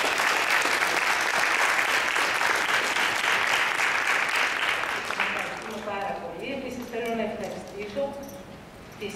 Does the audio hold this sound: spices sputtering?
no